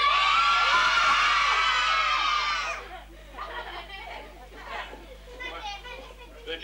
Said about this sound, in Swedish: Och så ger vi henne en jättefin applåd.